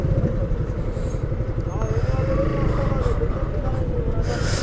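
Four motorcycles idling at the start of a ride from Dhaka to Cox's Bazar, a continuous low engine throb running steadily throughout, with faint voices in the background.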